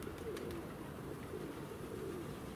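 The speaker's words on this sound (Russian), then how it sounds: "Вот эти вот внизу, вот они, парочка сидят вот на доске. Это моздок." Mozdok pigeons sitting on a board coo softly and steadily, faint and somewhat distant, over a constant background hum.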